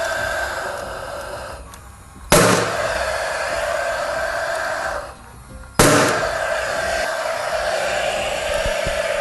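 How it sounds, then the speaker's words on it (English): A nail gun fastens a ventilation strip above a window during HardiePlank cladding installation, giving two sharp, loud bursts, each followed by a sustained hiss of air, close by. "hold it in place, again with the nail gun, drive it home."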